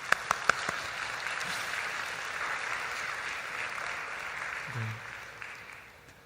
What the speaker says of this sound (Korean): 그 헌신자들에게 격려의 박수 한번 하도록 하겠습니다